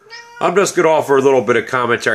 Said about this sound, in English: That's my cat you just heard right there.